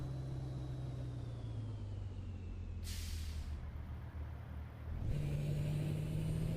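A Kenworth K100 truck in American Truck Simulator drones along at low speed in high gear, a steady engine hum broken by two sharp hissing air-brake releases and a shift that lifts the engine pitch.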